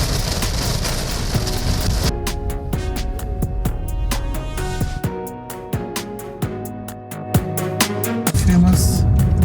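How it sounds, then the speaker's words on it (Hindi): Rain hitting a car during a road trip from Bodhgaya toward Varanasi in India, a dense close drumming of drops on the body and windshield, with a steady tonal hum and rhythmic clicks running under it. "इस ट्रिप की है ये ऑफिशियल फर्स्ट बारिश।"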